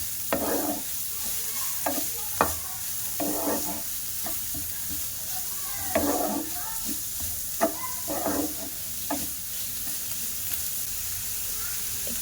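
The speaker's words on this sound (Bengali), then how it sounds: "বাঁধাকপি, বিট আর গাজর কুচিয়ে রেখেছিলাম, তো ওগুলো দিয়ে দেব। দিয়ে একটু নাড়াচাড়া করে নেব।" A spoon stirs chopped cabbage, beetroot and carrot in a hot pan with repeated scraping strokes. The strokes come in uneven bursts over a steady sizzle of frying, close and fairly loud.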